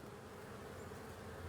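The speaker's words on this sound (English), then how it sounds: "Most of the bees you see are all females." Honey bees buzz around their hive in a steady, faint, continuous hum with no voices.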